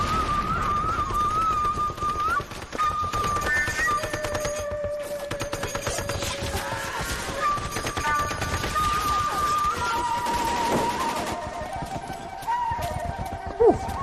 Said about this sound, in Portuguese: Guerra. Tiro.